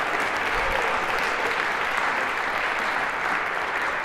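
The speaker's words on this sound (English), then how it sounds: "A round of applause for our final volunteers." Lecture hall audience applauding volunteers heading to the stage during a cybersecurity class, a full steady burst of clapping from many hands, fairly loud and sustained with no talk over it.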